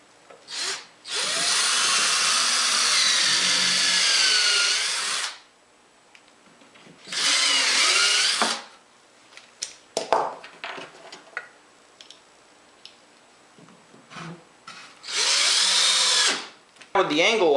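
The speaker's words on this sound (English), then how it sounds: "Now I can go ahead and pre-drill for the bottom screw." A power drill pre-drills screw holes in wood for an Adirondack chair, three loud sustained whirring bursts of a few seconds each separated by quieter clicks and handling noise, close up with no talk over it.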